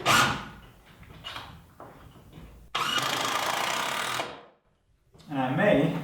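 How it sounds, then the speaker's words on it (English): Cordless drill or impact driver sinking 3-inch screws into a wooden roof truss in a workshop build: a steady whirring run of about a second and a half, then another burst after a pause, with softer knocks and handling noise before. "So I'm just going to take some 3-inch screws and tie this in to"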